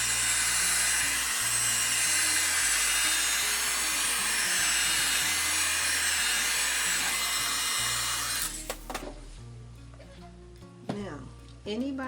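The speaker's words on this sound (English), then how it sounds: "All right, heat gun." Heat gun running loud and close with a steady blowing hiss for about eight seconds, then switching off, leaving some handling clatter and a person speaking afterward.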